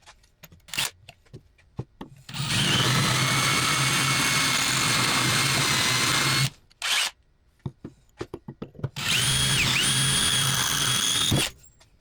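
A power drill bores out rivets on a motorcycle center stand for a Benelli café racer, with two sustained whining bursts of several seconds each, separated and framed by short clicks and brief drill blips.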